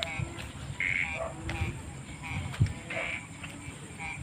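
Frogs croak intermittently in short, scattered calls against a quiet outdoor background, with a brief knock partway through.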